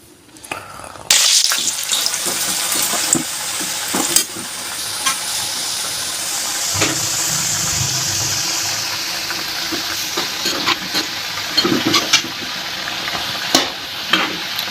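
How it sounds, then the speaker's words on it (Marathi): Thin slices of crisp coriander vadi fry in hot oil, making a strong hissing sizzle with bubbling and occasional scrapes and knocks from a utensil, close by and with no talking. "आता हे मी फ्राय करून घेणार आहे"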